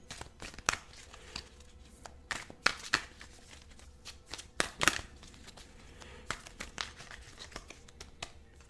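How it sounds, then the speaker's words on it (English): A deck of tarot-style cards is shuffled by hand close up, with repeated crisp riffles and soft papery shuffling bursts in an irregular rhythm, quiet and alone without speech. "We're going to give them another shuffle."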